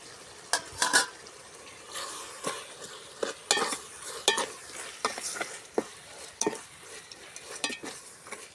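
A spoon scrapes and knocks through squid curry with ground coconut in a pan, sharp stirring clatters at an irregular rhythm over a soft, low sizzle.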